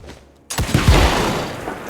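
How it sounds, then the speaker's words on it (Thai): After a brief quiet moment, a loud booming explosion in the video game Evil West bursts in and rumbles on, with crackling debris sounds trailing off. "ระเบิดรุนแรงมากเลยอะ"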